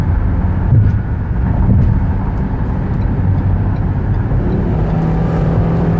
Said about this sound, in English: Popped it up to about 75 miles an hour. Nice acceleration, shifts very smooth.